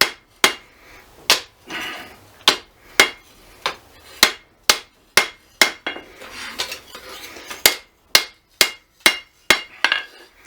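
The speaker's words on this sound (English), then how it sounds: "if I hit this side with the flat part of the hammer, that side's the part that gets flat" Repeated sharp metallic hammer strikes ring out at a steady, roughly half-second rhythm, each blow a bright clang on a knife blade being forged, with faint noise between.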